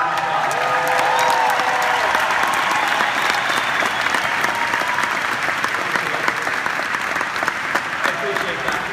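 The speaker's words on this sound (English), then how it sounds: "So if you give them a round of applause." Audience clapping at a business presentation, a dense, sustained round of applause holding steady throughout the clip, with the crowd's murmur mixed faintly into the clapping.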